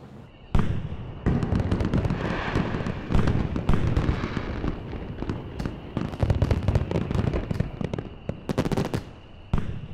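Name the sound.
fireworks exploding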